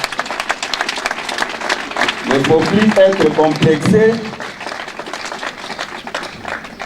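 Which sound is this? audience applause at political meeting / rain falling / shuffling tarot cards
audience applause at political meeting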